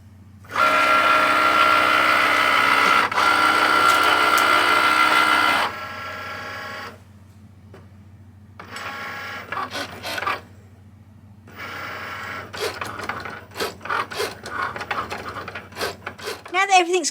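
A cutting machine slices heat transfer vinyl on a mat: a loud, steady motor whine with tonal whirring runs for several seconds, then shifts into intermittent buzzing strokes and clicks as the blade carriage moves back and forth, close and without talk.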